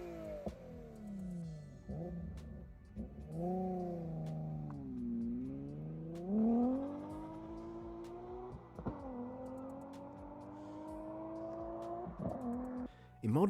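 A Nissan 350Z with a 3.5 liter V6, rear-wheel drive, revving up and down through several rising pulls, the engine note climbing and dropping clearly and close, with talk faintly underneath.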